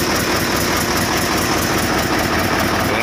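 A Mitsubishi 8DC11 diesel engine idles roughly after an oil change and tune-up, with an injector problem: a loud, continuous, close-up rumble with an uneven knocking pulse and no voices.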